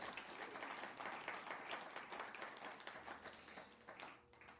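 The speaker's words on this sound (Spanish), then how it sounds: "Dale un aplauso al Señor, por favor." A church congregation claps together in a soft, distant patter of applause that holds steady and then fades out toward the end.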